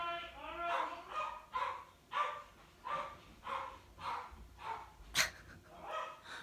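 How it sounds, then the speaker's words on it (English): Small pet dogs barking indoors to be let outside, a steady series of yaps and barks at moderate distance in the background, with no talk over them. "That's my little doggies barking in the background, wanting to go outside."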